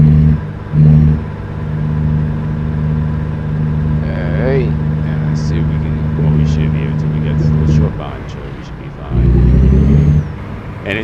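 A truck engine in a driving video game hums at a steady low pitch, then drops and swells again as gears change. A person talks over it.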